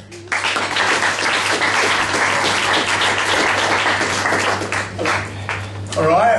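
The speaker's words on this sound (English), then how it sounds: "Round of applause." Dense audience applause in a comedy club, loud and sustained for several seconds with a steady low hum beneath, fading near the end as a voice cuts in.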